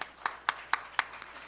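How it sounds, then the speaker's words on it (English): Audience clapping at a live event: four distinct, evenly spaced claps in a slow rhythm, then a fainter fifth, fairly close and moderately loud with no talk. "I thought we would clap for them"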